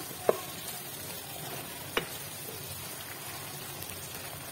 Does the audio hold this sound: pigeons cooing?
no